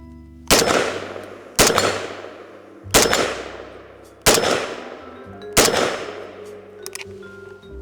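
Five loud FN FAL rifle gunshots fired one at a time at roughly one-second intervals, each sharp crack followed by a long ringing decay, outdoors and close.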